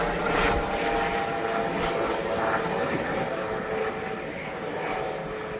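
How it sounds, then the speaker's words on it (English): A helicopter passes overhead as a steady, moderately loud rotor and engine drone with a soft rhythmic chop, filling the background and slowly fading slightly toward the end. "Is this a helicopter?"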